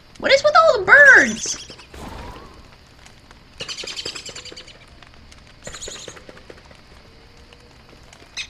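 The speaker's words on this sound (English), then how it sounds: "All the birds, god damn it, get out of here!" Birds in the game Don't Starve give a few bright chirps and tweets, loudest at the start with scattered calls later, mixed with light pattering and a person talking briefly.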